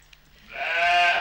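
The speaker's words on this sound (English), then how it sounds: "this is Dolly. A sheep" Dolly, the cloned sheep from Scotland, lets out a single loud bleat that swells out of a quiet background and holds, nasal and wavering, close by.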